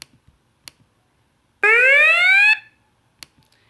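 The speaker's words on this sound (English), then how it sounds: "So this is the game over. You can change the sound from here." A single synthetic game-over tone from a Dino jump video game rises in pitch for about a second, loud and buzzy, framed by faint clicks before and after.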